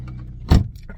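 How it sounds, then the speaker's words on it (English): A seatbelt buckle in a cheap second-hand Volvo S40 gives a single sharp click as it is plugged in, heard up close over a low steady hum inside the car. "that clicking you can hear is this little seatbelt thing when you plug the seatbelt in"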